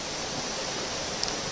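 Huai Luang waterfall in Na Chaluai, Ubon Ratchathani, pours as a steady, loud, broadband rush of falling water, constant throughout with no voices.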